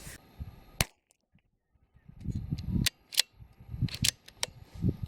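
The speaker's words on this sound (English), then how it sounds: "We'll do a 5-round group, we'll go down, check it out, and then make some adjustments." Several sharp .22LR rifle shots fired in a five-round group at a 50-metre target, sharp cracks spaced irregularly over a few seconds with low outdoor rumble and shuffling between them.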